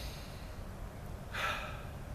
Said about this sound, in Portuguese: É a respiração.